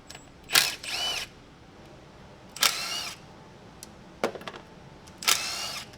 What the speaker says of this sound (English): now we're gonna take the all the transmission bolts out, including this one